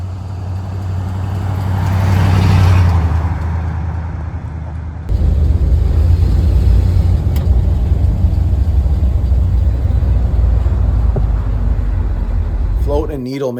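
A Ford 351M/400M V8 vehicle on the move, its engine holding a steady low rumble with road noise throughout, rising briefly near the start and settling into an even drone.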